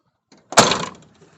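A car door being restored with rattle-can paint shuts with one short, solid clunk as it swings closed without striking the body, close and clear after a faint lead-in noise.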